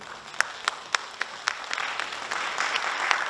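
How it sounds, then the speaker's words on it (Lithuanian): Applause in a hall at a junior bodybuilding contest, starting as scattered sharp single claps and building into denser, fuller clapping from the crowd. "Jūsų plojimai salėje."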